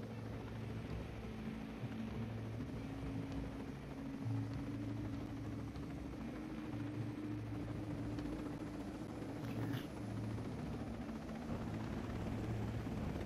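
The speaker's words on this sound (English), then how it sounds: "This is a big ass chopper." Helicopter in the video game Ghost Recon Breakpoint, a large chopper: a steady, loud rotor drone and engine hum runs continuously throughout, with no talk over it.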